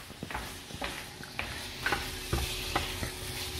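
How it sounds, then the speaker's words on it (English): Sweet potatoes frying with onions in a pan, a soft steady sizzle broken by scraping stirs and a few clinks of the utensil, quiet and close. "So they are nice and sweet, and we fry them with the onions. You can hear the sound."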